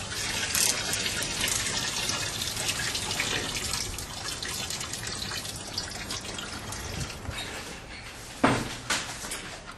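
Engine coolant drains out during an intake manifold gasket job, a low gurgling, splashing trickle that keeps running through the clip, with a couple of louder knocks or clunks near the end.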